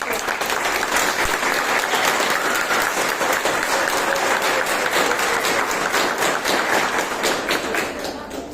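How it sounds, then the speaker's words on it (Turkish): A large audience at a summer science, engineering and technology camp certificate ceremony in Turkey applauds loudly and steadily for over eight seconds, dense clapping filling the hall before tapering slightly at the end. "Ulu Önder Mustafa Kemal Atatürk için kocaman bir alkış."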